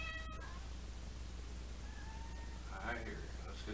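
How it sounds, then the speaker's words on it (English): A house cat meows several times, faint drawn-out calls from a little distance in a quiet room over a steady hum. "Oh, I hear you, Kitty."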